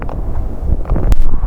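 Strong typhoon wind buffeting the microphone in Cagayan as floodwater rises, a loud continuous roaring rush with gusty surges and a brief sharp burst near the end.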